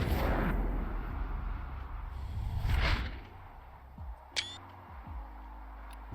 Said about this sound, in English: Explosions destroy the tranquility of Reykjavik